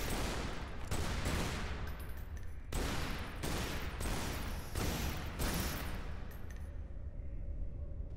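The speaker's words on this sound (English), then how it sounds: "Shoot the bats." Steady, loud rapid gunfire in Tomb Raider Underworld as bats are shot at, sustained bursts with brief gaps before cutting off near the end.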